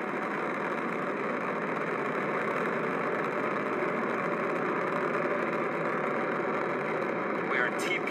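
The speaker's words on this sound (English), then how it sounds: "All nine Merlin engines have stage lit." Falcon 9 rocket launch carrying a crew Dragon, its nine Merlin 1D engines firing: a steady, dense, continuous roar that holds loud and even throughout, with no breaks.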